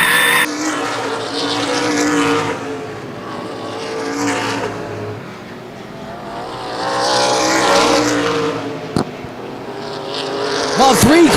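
Stock race cars in an ARCA/CRA Super Series race at Baer Field Speedway: loud engines roar and swell as cars sweep past, pitch rising and falling, with a commentator talking over the noise throughout.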